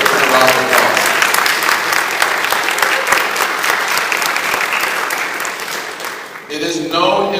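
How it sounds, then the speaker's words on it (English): An audience at a trauma care conference in Columbus applauds its host, Pastor Bill Raper: steady, loud, dense clapping across the room that tapers near the end and gives way to a voice. "Can we give Pastor Bill Raper a round of applause?"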